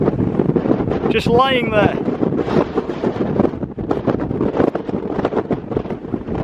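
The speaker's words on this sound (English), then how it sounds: "Wind is getting up again" Wind gusting across open ground on the walk to Sandwood Loch in the Scottish Highlands, a loud, steady roar and buffeting against the microphone throughout, with someone speaking over it.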